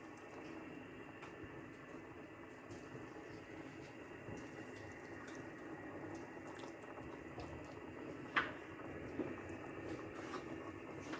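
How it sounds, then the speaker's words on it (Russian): A pot of lecho stew bubbles and simmers quietly and steadily under an outdoor awning, a soft continuous burble with a faint clink partway through. "Варится наша лечо."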